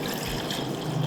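Red wine vinegar being poured into a pot for a pickling liquid, a brief, close trickling splash of liquid.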